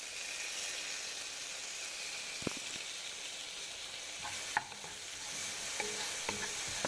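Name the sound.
tomatoes frying in a pan with onions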